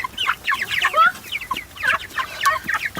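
A flock of month-old chicks clucking and chirping nonstop, close by, with busy overlapping calls in quick bursts and no talking.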